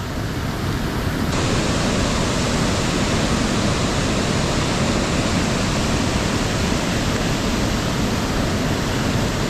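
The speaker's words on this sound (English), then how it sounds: "Riding the rapids." Rushing river rapids below an old spillway in the woods roar as a loud, dense, unbroken wash of water, steady and close throughout.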